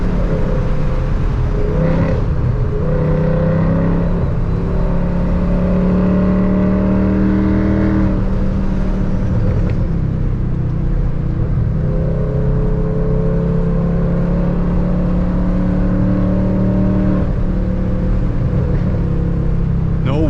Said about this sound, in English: This thing burbles like hell.